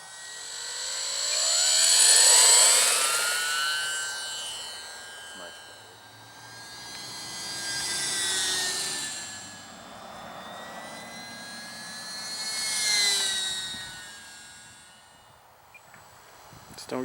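An E-flite UMX Sbach 342 RC plane whines overhead, its high electric motor pitch rising and falling as it makes three distinct passes, loudest near and fading between.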